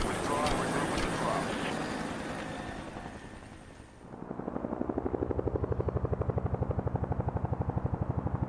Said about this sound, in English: And there's the chopper.